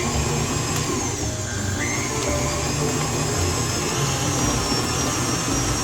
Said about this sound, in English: You're going to blend this on medium heat for 2 consecutive minutes.